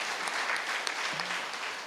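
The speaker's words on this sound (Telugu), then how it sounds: "చప్పట్లు కొట్టాలి మనం" An audience at an anniversary gathering in Belagalam, Kurnool claps to thank a horticulture specialist, producing a brief, even patter of many hands at moderate loudness with no voices over it.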